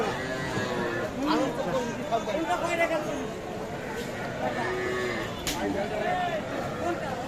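A cow at a village cattle market where cows with calves are being sold, lowing several times at mid distance while people talk and haggle nearby through most of the stretch.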